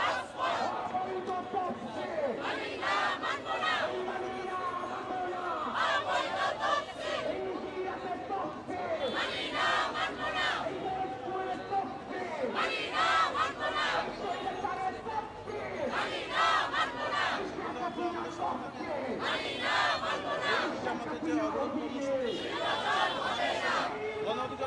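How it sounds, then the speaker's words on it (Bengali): Outdoor protest march by Gono Odhikar Parishad at Purana Paltan in Dhaka, a large crowd chanting slogans in loud rhythmic call-and-response bursts that rise and fall repeatedly, with crowd chatter between chants. "গণ অধিকার পরিষদ পুরানা পল্টনে তাদের বিক্ষোভ মিছিল করছেন তারা আসলে বিভিন্ন স্লোগান দিচ্ছেন"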